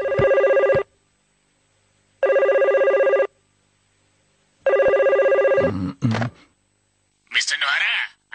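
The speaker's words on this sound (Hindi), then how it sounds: "जाकर फोन उठाइए।" A telephone rings in a Hindi-dubbed Shin-chan cartoon, sounding three loud electronic ring bursts separated by short silences. Cartoon voices follow the third ring.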